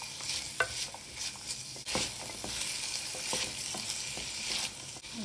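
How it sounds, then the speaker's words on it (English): Pumpkin pieces fry in a kadai while being stirred: a steady, fairly loud sizzle with repeated spoon scrapes and knocks against the pan, and no voices. "Stir for a while before you add the chili powder and fennel."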